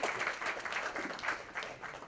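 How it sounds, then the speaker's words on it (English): A crowd applauds steadily at a tree-plantation launch event, a dense patter of many hands clapping at moderate volume with no one speaking. "Big round of applause for ma'am."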